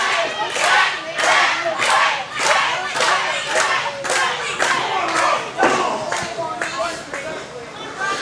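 A wrestling crowd chants and cheers in rhythmic surges behind Killjoy, loud and reverberant in an arena, with steady pulsing shouts and some clapping throughout.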